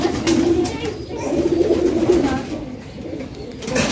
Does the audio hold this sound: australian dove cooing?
yes